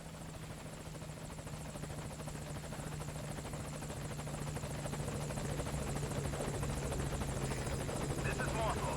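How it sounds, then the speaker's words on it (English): A helicopter comes in to land at a landing zone in Metal Gear Solid V: Ground Zeroes, its rotor a loud, steady, rapid chop with a low engine drone that holds throughout, with a voice speaking over it. "Oh, is that where the helicopter's landing?"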